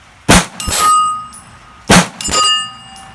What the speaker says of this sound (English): Back on that big 10-inch steel gong,